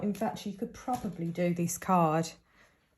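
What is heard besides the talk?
No everyday noise stands out behind the speech.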